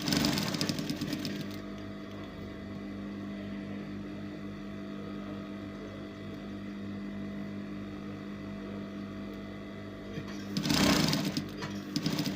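A sewing machine stitching fabric for a bodycon top at a quarter-inch seam, running as a steady mechanical whir with a steady pitch and a louder burst near the end; no one speaks.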